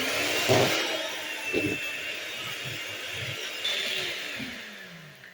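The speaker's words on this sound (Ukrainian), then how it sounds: "Збиваю його поки що так, без нічого, одне масло." An electric mixer whips softened butter on its own in a bowl, a steady whirring hum with slight changes in pitch as the beaters churn, running continuously and close with no talk.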